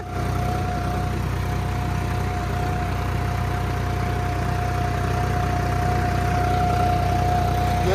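A Swaraj 855 4x4 tractor engine drones steadily and loudly under load while pulling an 11-tine cultivator, a continuous low rumble with a constant tonal whine and no speech.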